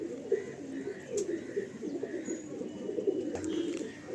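A Madrasi pigeon coos softly and repeatedly nearby, low rolling calls over a quiet background with faint occasional chirps.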